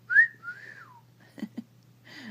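A sun conure gives a bright rising-and-falling whistle, then a couple of short clicks and another whistled note, clear and close.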